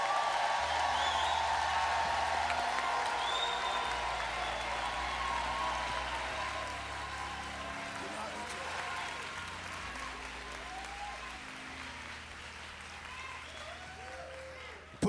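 Loud, sustained applause from a large church congregation fills the space, with scattered cheers and whoops riding over it, slowly tapering toward the end.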